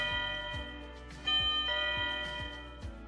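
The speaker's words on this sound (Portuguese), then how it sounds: "A campainha soa, sinalizando o morador que alguém está chamando." An Intelbras CIK200 battery-free wireless doorbell receiver chimes indoors, with ringing tonal notes over a steady pattern of soft low thumps, fairly quiet and with no talking.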